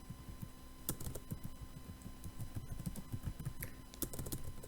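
Fast, steady clatter of keys on a computer keyboard, close and fairly quiet, with continuous irregular taps and no voices.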